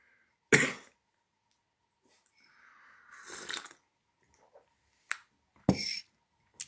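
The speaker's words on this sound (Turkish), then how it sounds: "O da beni öksürtüyor." A few sharp, loud smoker's coughs close by, separated by pauses, with a softer rough throaty rasp in the middle.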